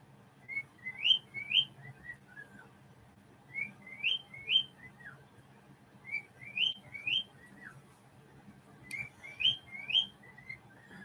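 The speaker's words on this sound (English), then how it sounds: "let me know if him whistling is too much" An old pet bird whistles indoors in repeated short bursts of bright, rising chirpy notes, four phrases with pauses between them, fairly faint against a low background hum.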